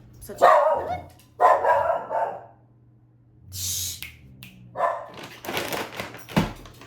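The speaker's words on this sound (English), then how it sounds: "He barks, and he is just such a little rascal." A small dog barks in short, sharp bursts and whimpers indoors at close range, with a low background hum and a person briefly hushing it.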